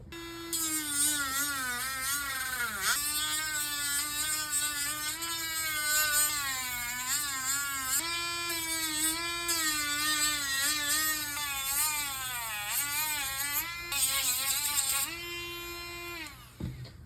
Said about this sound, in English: now that we've been Dremeling for a while